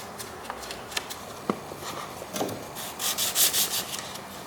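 A run in car paint on a wrecked Dodge Challenger Shaker is sanded with a small piece of sandpaper wrapped on a paint stick: a few light taps, then short close scrubbing strokes that grow louder near the end.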